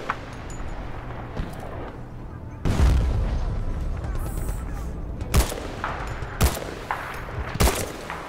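Gunfire from the Battlefield Bad Company 2 campaign: loud bursts of shots and heavy booming blasts over a steady battle rumble, with sharp cracks repeating near the end.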